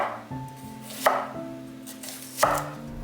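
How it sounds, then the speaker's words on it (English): Leftover vegetables are chopped on a board for a fish broth, with a few soft cuts followed by two sharper, louder knife strikes about a second and a half apart, close up with no talking. "Now I'm chopping any vegetables that I have left in the fridge."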